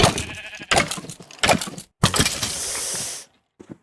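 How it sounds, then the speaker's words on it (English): Sheep in the Minecraft video game bleat several times in quick succession, loud and close, with one longer drawn-out bleat before a brief silence. "Ooh, there's a couple of sheep, actually."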